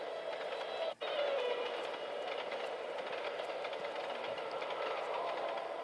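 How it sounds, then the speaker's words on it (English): A New Jersey Transit train passes in the Trainz Simulator 2 railway game, a steady rolling rumble and hiss of rail wagons lasting throughout with a brief dropout near the start, no talking. "there is another New Jersey Transit train. Wow, that was quick. Hello, train."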